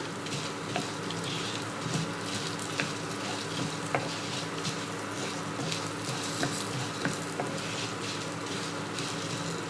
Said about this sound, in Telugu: ఎండుమిర్చి మాడిపోకుండా సిమ్లో పెట్టుకొని వేయించుకోవాలి